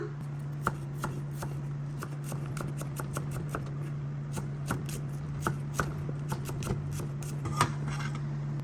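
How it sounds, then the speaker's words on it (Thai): Knife slicing garlic on a cutting board for stir-fried egg with fermented pork, a steady run of crisp, close chops in uneven rhythm over a constant low kitchen hum. "ซอยกระเทียม"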